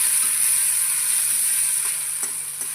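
A steady, close sizzle of ginger-chili-garlic paste and tomatoes frying in a pan over carom-seed tempering, for a mixed-bean brinjal curry, with a few faint clicks of stirring near the end and no talk.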